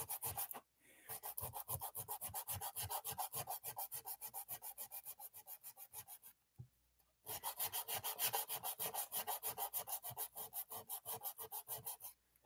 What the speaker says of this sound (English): We are sanding Prism down.